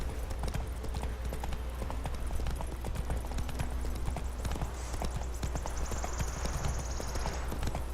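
Roach the horse trotting in The Witcher 3: Wild Hunt, a steady brisk clip-clop of hooves over continuous ambient noise, with a faint voice briefly in the background.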